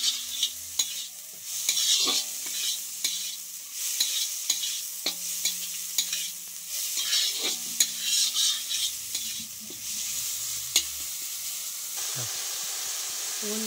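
Spices and leafy thankuni greens sizzle and hiss in a hot pan, with steady frying noise broken by repeated sharp scrapes and taps of a stirring spoon.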